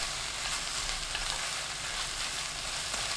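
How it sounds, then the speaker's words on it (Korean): Kimchi, onion and a spoonful of perilla oil stir-frying over high heat in a pan for kimchi japchae: a continuous dense, hissing sizzle, close and even throughout. "팬에 김치, 양파, 들기름 1큰술 넣고 센 불로 2분 볶아주세요"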